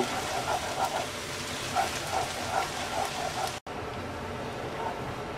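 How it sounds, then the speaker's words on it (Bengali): Garlic fries lightly in a pan with a steady, rain-like sizzle and faint crackles, close by, cut by a momentary dropout partway through before the hiss resumes. "এবার রসুনটাকে আমরা হালকা ভেজে নেব।"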